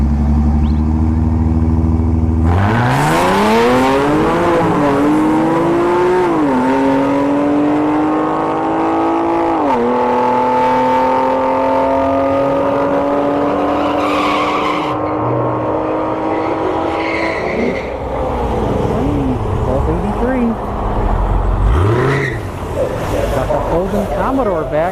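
An Infiniti G37 and a Camaro launch off the line in a drag race, engines roaring loud and rising through gear changes for about fifteen seconds, then fading as other track noise and a voice come through.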